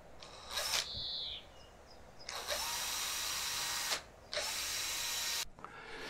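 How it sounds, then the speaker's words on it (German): A power drill boring extra holes into the outer ring of a turntable bearing for a DIY camper table with a rotating top, in three loud, close bursts of whining drilling separated by short pauses, with no talking. "ich bohre jetzt hier in diesen Drehkranz außen noch ein paar zusätzliche Löcher"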